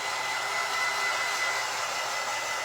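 A hair dryer blows on a blanket with a steady, loud, close whoosh of motor and air that runs unbroken through the whole clip, with no voices.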